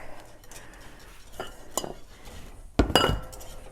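A metal utensil scrapes and clinks against a Zwilling non-stick pan as butter and stout melt inside. Several scattered clinks build to a louder cluster of knocks near the end.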